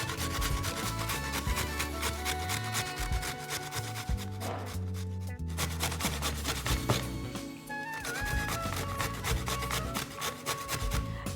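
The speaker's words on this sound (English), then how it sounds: "I'm going to grate the carrot." Carrots being grated by hand for vegan gaajar ka halwa, a steady run of rough rasping strokes continuing throughout, partly masked by louder background music.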